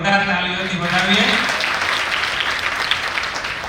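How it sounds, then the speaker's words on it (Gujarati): Dense, loud applause from an audience at a family community gathering in Rajkot, Gujarat, continuous and steady after a voice trails off at the start. "આપણે એમને જોરદાર તાળીઓથી વધાવીએ."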